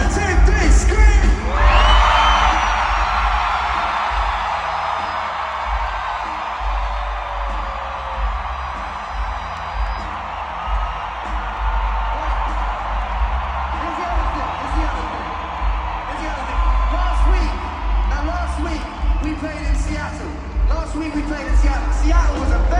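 A large concert crowd in Vancouver screams and whoops loudly on cue at a Saturday night show, a sustained roaring wall of voices that rises sharply after a brief pause and holds steady.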